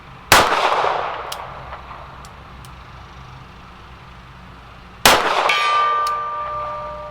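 Two sharp, loud reports from an S&W Model 38 revolver fired at a silver steel gong 50 yards out, about five seconds apart, each trailed by a ringing metallic decay.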